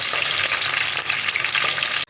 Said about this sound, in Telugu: పొయ్యి పైన బాండీ పెట్టి నూనె పోసి దాల్చిన చెక్క, లవంగ మొగ్గలు, వెల్లుల్లి రెమ్మలు 10, జీలకర్ర, పచ్చిమిర్చి, కరివేపాకు వేసి 5 నిమిషాలు వేగనిచ్చాక